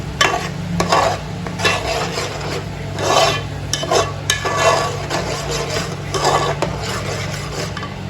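Ginger garlic paste and tomato paste cook in a pan, with repeated rhythmic scraping and stirring strokes over a steady background sizzle, close and fairly loud.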